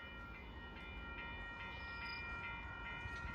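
A steady, faint rumble of a passenger train rolling past at a distance near Port Union in Scarborough, Toronto, heading toward Union Station, continuous and even throughout, with no voices.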